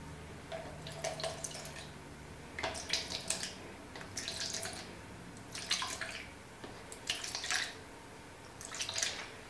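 Citrus and sage scented liquid is poured in several short, faint bursts of trickling and splashing, separated by brief pauses.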